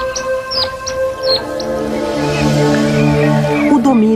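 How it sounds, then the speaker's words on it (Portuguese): African fish eagle calling in the Okavango Delta, a loud ringing series of sharp yelping cries in the first second and a half, heard over a steady background of other tones and a later swelling drone. "o pio evocativo da águia pescadora africana"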